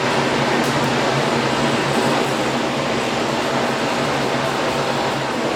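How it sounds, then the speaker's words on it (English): A workshop air filter runs steadily in a shop where half-inch steel plate is being worked, giving a constant, loud, even broadband whoosh with no pauses and no voices. "We got the air filter running."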